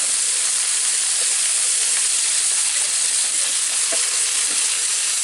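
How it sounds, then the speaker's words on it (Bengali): Oil sizzles steadily in a pan as a chicken capsicum pizza fries, a loud, even hiss of frying that carries on without a break and has no voices over it. "তেলটা ছড়াই দিই, সব দিকে যাতে তেল তেল নিয়ে সুন্দর একটু ভাজা হয়"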